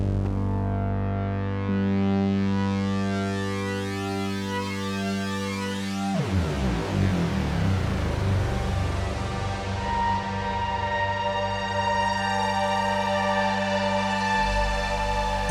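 An instrument from the free Socora LITE Kontakt library plays sustained, shimmering tones run through a dimension chorus effect, wide and continuous with a sweeping pitch shift partway through, with no talking.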